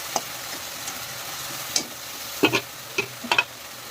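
Food sizzles in a hot pan while being stirred: a constant frying hiss with a handful of sharp spatula scrapes clustered toward the end, close and fairly loud, with no voices.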